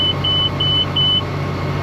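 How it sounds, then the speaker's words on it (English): Three evenly spaced electronic beeps from a hay baler sound the signal that the bale chamber is ready to unload, ringing out clearly over the steady drone of the tractor engine on a Western Australian sheep farm. "Those 3 beeps there, that's saying the bale chamber's ready to unload."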